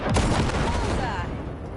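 Weapons fire from Cyberpunk 2077 blasting ship wrecks, a loud heavy blast with a booming impact that rolls off and fades over under two seconds, with some speech mixed in.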